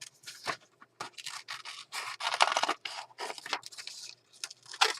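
Scissors fussy cutting around a design on sheet music paper, a close series of short crisp snips and scraping strokes with brief pauses between cuts.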